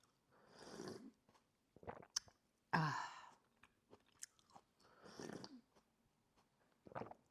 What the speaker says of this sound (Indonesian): Supaya lebih bagus ya, aku kunyah tehnya. Aku kunyah jahenya.